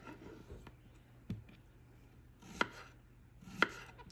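A knife chops tomatoes on a cutting board, three or four sharp separate cuts spaced about a second apart, close and fairly quiet with no talk.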